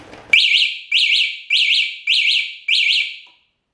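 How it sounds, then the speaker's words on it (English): A shrill electronic E-vader car alarm repeats in five evenly spaced, warbling bursts, loud and close, with no voices. "when I go ahead and really activate the alarm"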